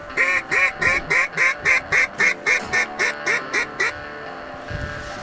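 Redhead ducks quack in a fast, regular run of about a dozen loud, close calls, stopping abruptly, followed by wind noise outdoors.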